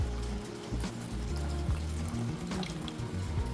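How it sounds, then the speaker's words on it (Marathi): Tamarind water streams into a cooking pan with a steady running, splashing gush that lasts throughout, close and fairly soft, with no voices. "आता ह्यामध्ये घालूया हे चिंचेचं पाणी"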